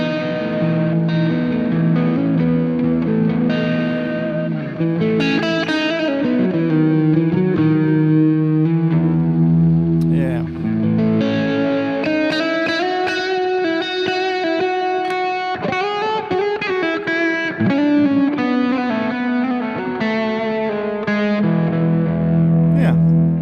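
Electric guitar played through an Andy Timmons distortion pedal set for heavy distortion, ringing out loud and close in sustained, saturated chords and bending single notes that flow continuously with no gaps.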